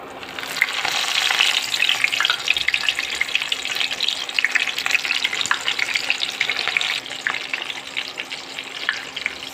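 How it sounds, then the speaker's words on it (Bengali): Hilsa fish paturi fries in hot oil with a steady, close, dense sizzle and crackle that continues throughout without speech. "তেলটা গরম হয়ে গেছে, এখন এতে আমি একটা একটা করে পাতুরি দিয়ে দিব।"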